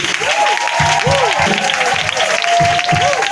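Worship congregation at a Pentecost service applauding and cheering, a steady wash of clapping and crowd noise with a sung or shouted voice gliding over it, near and loud throughout.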